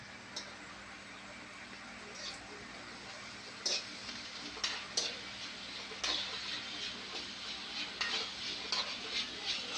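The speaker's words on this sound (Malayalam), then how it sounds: "ഇനി അതിലേക്ക് നമുക്ക് സവാളയും ഉള്ളി സവാളയും ചെറിയുള്ളി പിന്നെ ഇഞ്ചി വെളുത്തുള്ളി പിന്നെ കറിവേപ്പിലയും കൂടി ഇട്ട് നന്നായിട്ട് വഴറ്റിയെടുക്കാവേ" Onion, shallots, ginger, garlic and curry leaves sauté quietly in a pan under a faint sizzle, with irregular light clicks and scrapes from a stirring spoon tapping the pan.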